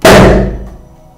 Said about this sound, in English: we put fuel inside and press the switch, kaboom!